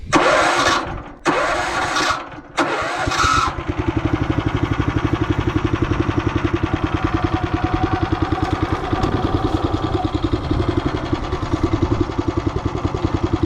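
A walk-behind tractor's engine is cranked in a few short bursts, then catches and settles into a fast, steady chugging idle that runs close and loud to the end, used for planting winter onion sets.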